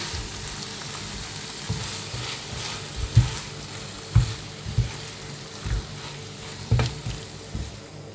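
Sauerkraut frying in a pan with sausages and tomato paste gives a constant soft sizzle. Intermittent close clacks and scrapes from stirring come every second or so, with no voices.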